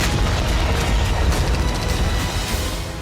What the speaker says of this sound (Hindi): एमएलआरएस और आर्टिलरी से जबरदस्त गोलाबारी की जा रही है।